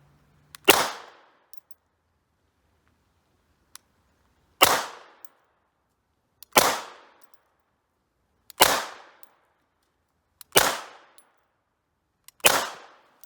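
Hi-Point CF380 pistol firing at a shooting range: six loud, sharp single shots spaced about two seconds apart, each with a short decaying ring, with quiet between.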